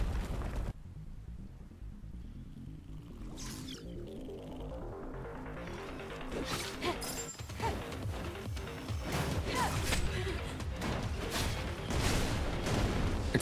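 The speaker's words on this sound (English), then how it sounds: "Explosions." Explosions go off in the Stellar Blade video game, a dense stretch of crashing, rumbling blasts that builds and grows louder and busier toward the end, with repeated heavy impacts and no talking.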